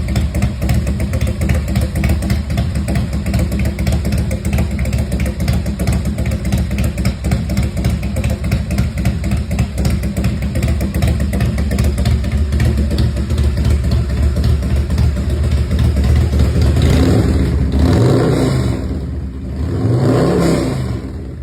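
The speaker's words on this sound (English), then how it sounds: "2004 Big Dog Motorcycles Chopper." A red 2004 Big Dog Motorcycles custom chopper with a V-twin engine idles with a steady, loud rumble, then gets blipped twice near the end in quick rising-and-falling revs, heard up close with no voices.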